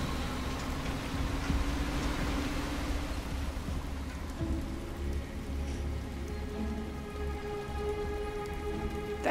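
Steady rain in the video game Detroit: Become Human patters continuously on surfaces, a dense hiss of drops with a faint low rumble, while a tonal hum rises in the background toward the end.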